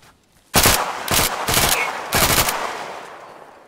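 Four loud, close bursts of automatic weapon fire in the video game Vulpine Vanguard, separated by short gaps, each burst a rapid rattle with a decaying tail.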